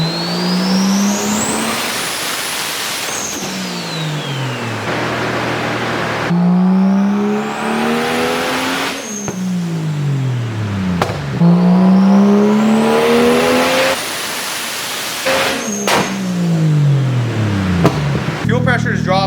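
A Toyota Supra MK4 engine running on butane fuel revs hard several times in a row, each run climbing to a high-pitched scream and falling back to idle, loud and close, with people talking between the revs.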